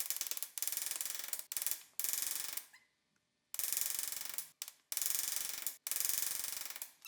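A ratchet loosens the 14 mm caliper bracket bolts on a car hub, giving bursts of rapid, loud close-up clicking separated by short pauses and one longer silent gap.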